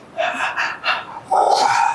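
A stroke patient breathes deeply on instruction during a physiotherapy session, with a few short audible breaths followed by a longer, forceful exhale, heard close up.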